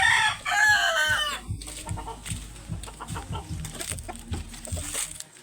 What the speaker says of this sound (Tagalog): Ayan po yung isa sa nanalo sa ating mga alagang manok.